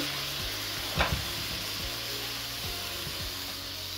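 Bottle gourd stems fry in a pan for greens cooked with beans and potato, giving a steady close sizzle. A brief clatter of stirring or tipping comes early and faint scraping follows, with no talking.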